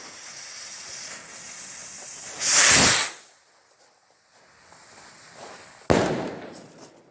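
A small 1.3G firework rocket hisses as it launches in a loud, rushing whoosh, then after a few quieter seconds bursts overhead with a sharp crack that fades into crackle.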